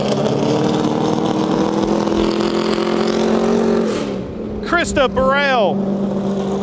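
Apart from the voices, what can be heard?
NASCAR race car engine revving in the garage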